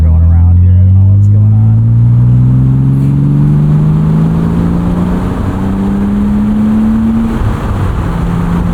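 A 1999 BMW Z3 M Roadster pulls away under steady load, its engine note climbing smoothly through a long gear, loud and close, with a voice speaking over it near the start.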